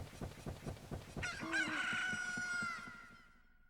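Rooster Kojiro crows in the video game Zelda: Ocarina of Time, a single long cock-a-doodle-doo rising out of rhythmic background game music and fading at the end.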